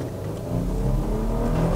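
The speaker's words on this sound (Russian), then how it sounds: "Итак, даем газ с места." A Toyota Land Cruiser Prado pulls away from a standstill, its engine note rising into a steady, close, fairly loud acceleration drone with no one talking over it.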